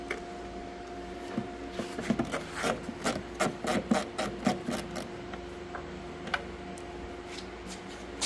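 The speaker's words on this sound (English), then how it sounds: "So you're getting on that with a Phillips head screwdriver." Phillips head screwdriver working on the taillight of a 2012 Fiat 500, giving faint close scraping and ticking clicks in an irregular cluster, quietest at the start and end.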